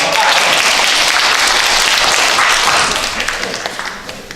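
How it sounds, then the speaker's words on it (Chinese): Children clap their hands together at a church children's Sunday service, a loud, busy burst of many claps that holds strong and then thins out and fades toward the end. "拍手"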